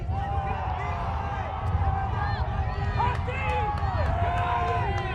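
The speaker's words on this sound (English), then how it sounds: "both sides cheering on the respective squads" Stadium crowd at a women's ultimate frisbee pool-play match between Germany and New Zealand at the 2012 World Ultimate Championships, with both sides cheering steadily; a dense, continuous wash of voices and shouts that swells slightly midway and holds at a fairly loud level.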